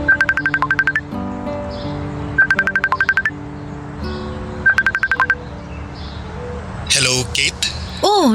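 A phone rings in repeated electronic bursts, three rising trill patterns spaced about two seconds apart, steady and fairly loud, followed by a short swooping tone as the call connects.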